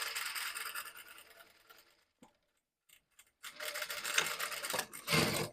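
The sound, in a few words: sewing machine stitching a blouse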